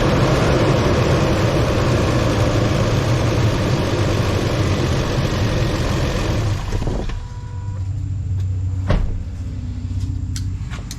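A 2006 Toyota Tundra engine runs with a loud, steady rumble, then settles into a quieter, even idle after a short transient, with a sharp click near the end; no talking.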